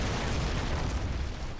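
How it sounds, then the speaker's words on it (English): Naval Action sailing-warship cannon fire, a continuous loud rumbling barrage of booms that fills the whole stretch with no pause and no talk. "Letting loose there with some more cannon fire"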